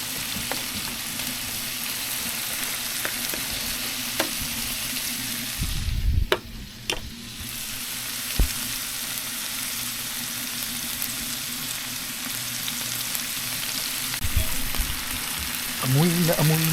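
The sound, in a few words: food frying in a pan before adding egg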